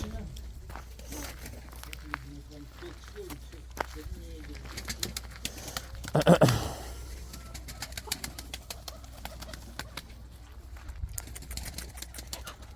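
Turkish tumbler pigeons, a young female and an agitated male, give soft low coos beneath a man's speech, with a louder flutter of movement near the middle and scattered clicks and footsteps.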